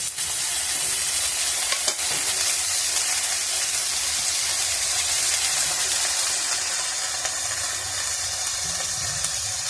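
Bitter jukti flowers being fried in hot oil in a pan for a Bengali chorchori, a steady loud sizzle and hiss with occasional stirring scrapes.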